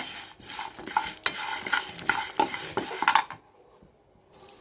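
Red chillies, curry leaves and urad dal being stirred in a pan by a home cook, the spoon scraping and clinking in quick repeated strokes with a light sizzle, then falling quiet.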